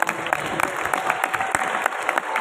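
Audience applause at a Ramadan talk show held in a mosque, a short burst of scattered, distinct hand claps from a modest crowd, fairly close and lively.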